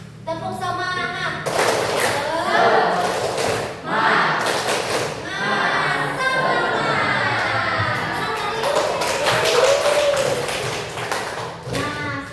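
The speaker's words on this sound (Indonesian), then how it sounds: "Ayo kita tepuk semangat terlebih dahulu ya supaya semangat." A school class performs a rhythmic 'tepuk semangat' clapping chant. Bursts of group clapping and thumps mix with the students' chanting voices.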